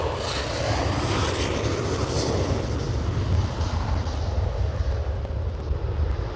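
Aircraft with RB211 jet engines at Edinburgh Airport, a loud continuous broadband roar heard from outdoors that holds steady for the whole stretch, with no voices over it.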